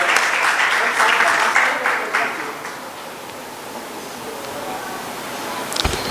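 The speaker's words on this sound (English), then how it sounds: "A big round of applause." Audience applause at a trade conclave panel in Mumbai, a dense, loud wash of clapping that gradually thins and fades over several seconds, with a few scattered claps near the end.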